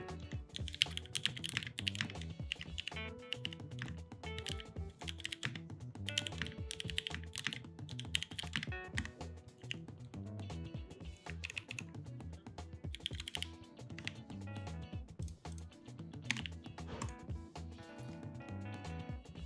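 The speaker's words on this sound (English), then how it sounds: "Keyboard is Thock." A cheap TKL mechanical keyboard with a deep, thocky sound, typed on steadily for a long stretch: dense, rapid, rounded key strikes, close and fairly quiet, with no voices.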